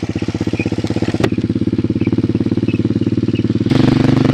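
A Suzuki S40 Boulevard motorcycle rumbles close by with a loud, pulsing single-cylinder throb that steps up in intensity near the end as it pulls away.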